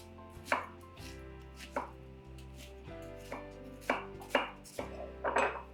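A knife roughly chops an onion on a cutting board, with several sharp, close knocks at an uneven pace, and no talking.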